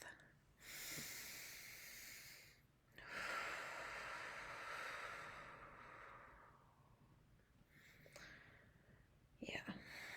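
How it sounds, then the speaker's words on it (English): Two long, deep breaths are drawn in and let out slowly, close and breathy, each with a soft hissing exhale and a quiet pause between them. "take a nice, deep breath"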